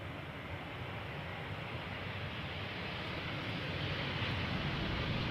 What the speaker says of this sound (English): Finnair always makes a right hand turn and comes this way